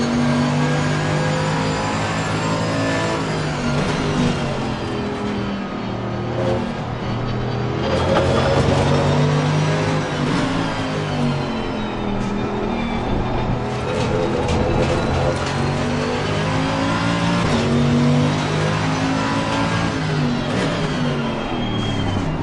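Race car engine in Assetto Corsa Competizione on PS5, a continuous high-revving note rising and falling through gear changes and throttle, loud and steady throughout without talk.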